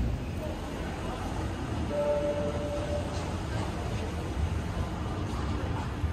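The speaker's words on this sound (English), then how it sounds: "let's get on the tram" Steady low rumble of a Manchester Metrolink tram rolling along rails toward Old Trafford, with broadband rattle and a brief tonal squeal; faint voices murmur underneath.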